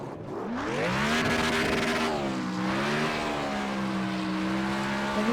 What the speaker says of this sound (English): And here's my burnout as I'd won the race.